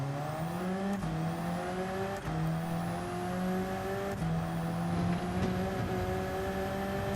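A race car engine in Gran Turismo 7 holds a steady high-revving drone near the top of 6th gear in a slipstream, with brief dips at gear shifts and a continuous whine, loud and close, no talking.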